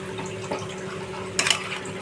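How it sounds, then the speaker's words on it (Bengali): Water swishes steadily as a mixer jar coated with poppy seed paste is rinsed and the water poured into a pan of boiled potatoes, a brief louder splash rising near the end over a low kitchen hum. "মিক্সির পটটা বুলিয়ে যেটুকু জল পোস্তটা গায়ে গায়ে লেগে আছে সেইটুকুই আমি ধুয়ে জলটা দিচ্ছি"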